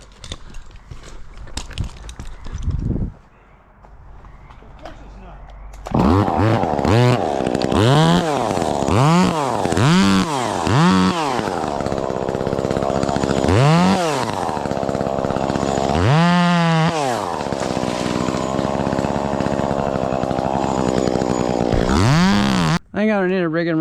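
Echo 2511T top-handle chainsaw running and refusing to idle, its small two-stroke engine surging through repeated sharp revs and falls, loud and close, with a quieter stretch at the start.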